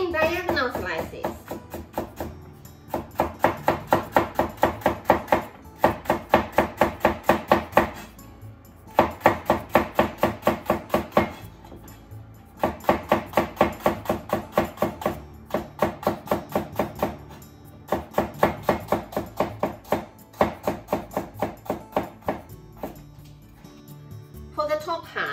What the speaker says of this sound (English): Then make thin diagonal slices.